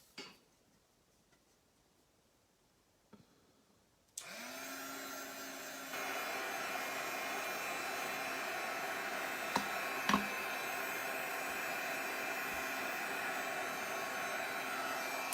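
A heat tool switches on and blows steadily to dry soft paint on a mixed media card, a loud, even whirring hiss that follows a few faint clicks and runs unbroken to the end.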